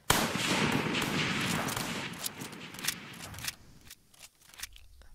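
Muskets fired by reenactment soldiers at a training drill, a loud ragged volley of close shots crackling for a few seconds before dying away into quieter rustling.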